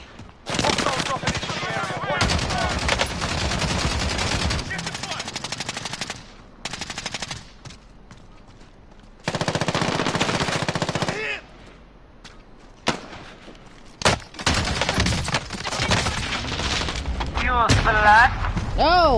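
Video-game gunfire during target practice: loud bursts of automatic fire and single shots repeat in separate volleys, with a few short gaps and some heavy thuds mixed in.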